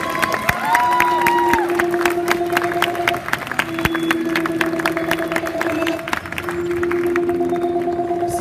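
A convention crowd applauds and cheers for a cosplayer posing for cameras, a dense, steady wash of clapping mixed with bright tonal music or electronic sounds running throughout.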